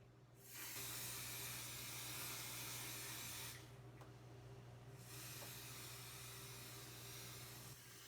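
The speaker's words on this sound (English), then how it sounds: "we're going to spray some mold release because this needs a couple minutes to sit." Mold release agent hisses from an aerosol spray can in two sustained bursts separated by a brief pause, close and steady against a low background hum.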